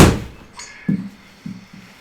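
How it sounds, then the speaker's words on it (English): A golf ball struck with a 7-iron on an indoor launch monitor setup, giving a sharp close impact at the start followed by a few softer thuds as the ball lands and rolls, with no talking. "here's shot number 1 with the 7-iron"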